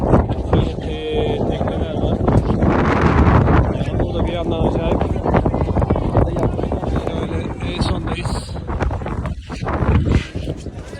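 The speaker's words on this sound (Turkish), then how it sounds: "Rüzgar var acayip." Strong wind buffets the microphone throughout, a loud continuous rumble with voices talking underneath, on the third floor of the Eiffel Tower in Paris, 276 metres up.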